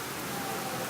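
Steady rain mixed with hail and snow falls in New York City, a dense, even hiss with no pauses.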